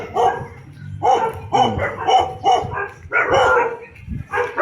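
Several dogs bark in quick, repeated bursts nearby, a steady run of about eight barks with short gaps between them.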